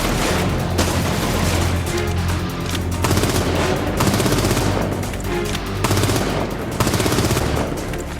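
Loud bursts of gunfire crack out repeatedly in rapid volleys, close and harsh, like automatic weapon rounds being fired over and over.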